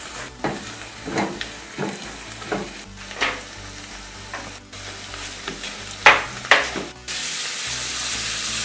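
Potatoes and eggs frying with black pepper, red chili powder and salt being stirred in a pan: a steady sizzle broken by repeated scraping strokes of the spatula, with a brief louder hiss near the end.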